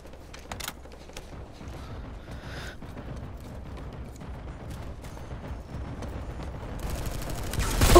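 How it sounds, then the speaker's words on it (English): Gunfire and explosive bursts in a rocket-focused shooter video game, a steady dense rumble of shots and blasts at a distance that builds louder toward the end. "Stop shooting."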